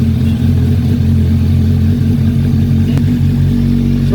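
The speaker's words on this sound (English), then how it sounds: "now we are going to start the engine so that the distilled water along with the flush is being circulated completely into the engine" A Kawasaki Ninja motorcycle engine idling after coolant flushing, a loud, close, steady low rumble with a constant throbbing hum and no voices.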